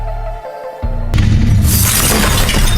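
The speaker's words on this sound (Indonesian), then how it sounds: "akhirnya itu kaca dan pecah." Glass shattering loudly in a dark house set with traps, preceded by a low rumbling tone, then a bright sustained crash and tinkling debris.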